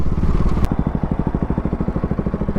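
A fully modified KTM RC200 motorcycle winds down as it stops on a highway, a brief blip giving way to a close, lumpy idle that pulses in a quick even rhythm.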